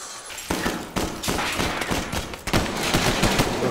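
Rapid bursts of gunfire from a film soundtrack, several volleys in quick succession, loud and dense with sharp repeated cracks and no talk over them.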